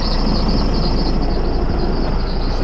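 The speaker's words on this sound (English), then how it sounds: "Fire the tractor back up." Tractor engine running at a steady, loud drone with continuous low rumble and no pauses, heard up close while operating with a hydraulic diverter setup.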